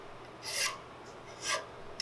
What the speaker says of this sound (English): Put the burrs off.